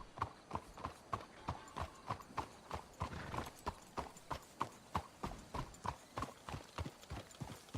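Horses' hooves clip-clop in a steady, even walking rhythm in the Western game Red Dead Redemption 2, a continuous run of close, crisp hoofbeats with no talking.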